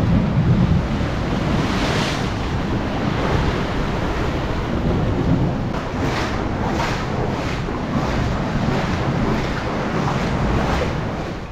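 Loud, continuous roar of sea surf with waves washing in and breaking on the Italian coast, mixed with wind buffeting the microphone.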